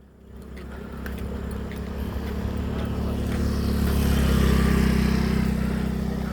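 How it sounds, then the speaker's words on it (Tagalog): A small motor engine approaches and grows steadily louder, its buzzing drone swelling as it nears and passes close by. "Ah, may motor. Ay, scooter."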